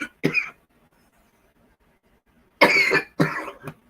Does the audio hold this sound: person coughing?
yes